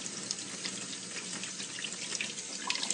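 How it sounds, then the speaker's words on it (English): Tap water runs steadily over fresh strawberries being rinsed in a kitchen sink, a continuous close hissing splash with small flickers of droplets and no talking. "I'm going to choose the strawberries that I want to use and I'm just going to rinse them."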